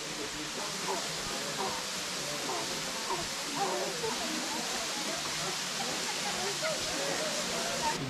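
A Kenyan waterfall near Nairobi roars as a broad, continuous rushing wash, fairly distant and steady, with faint voices murmuring beneath it.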